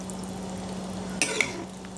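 A spoon stirs tofu-coconut curry with curry powder in a pan over a soft, steady background hiss, with two quick scraping clacks close together midway.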